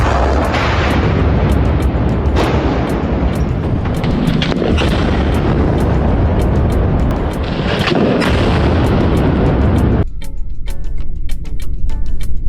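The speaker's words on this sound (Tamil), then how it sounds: "ராணுவ வாகனங்களும் ஆயுதங்களும் பாலைவனத்துல வச்சு சோதனை செய்யப்பட்ட காட்சி" Military weapons fire during testing in the desert, a loud barrage of overlapping booms and bursts that ends in sharper, separate shots near the close.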